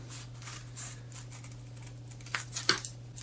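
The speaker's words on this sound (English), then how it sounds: "cut on the line all the way around" Faint scissors snipping and paper rustling while cutting paper, a couple of short crisp cuts near the end over a steady low hum, with no voices.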